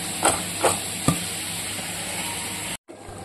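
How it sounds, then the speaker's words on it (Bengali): Small fish frying in a pan, a steady broadband sizzle with a few louder stirring scrapes near the start, close and continuous until a brief cut near the end. "এদিকে বসিয়ে দিচ্ছি ছোট মাছটা ভাজার জন্য"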